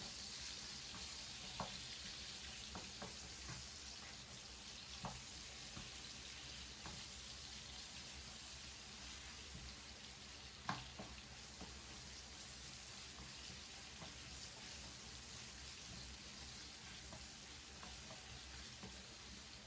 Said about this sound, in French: On va faire revenir les oignons 2 à 3 minutes.